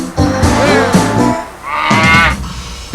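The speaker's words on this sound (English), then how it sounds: "Larry has started mooing at the cows, and so I've also mooed at the cows with Larry." Cattle mooing in a field, a few drawn-out lowing calls close by that rise and fall in pitch, with brief gaps between them.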